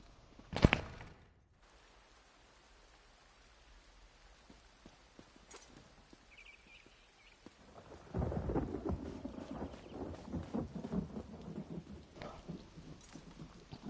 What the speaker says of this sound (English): I love the thunder on this game.